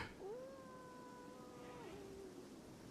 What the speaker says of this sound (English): It sounded like I can hear a cat meowing.